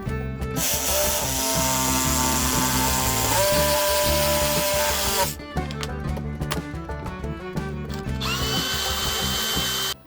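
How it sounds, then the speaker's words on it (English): A power tool whines loudly and continuously, shifting pitch as it drills holes in a metal bus bar, with a harsher grinding stretch midway as the bar is sanded. "I've got my holes drilled and I sanded down the bus bar"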